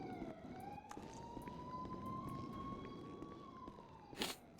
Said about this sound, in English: Slash me, you hear the sirens and can't sue me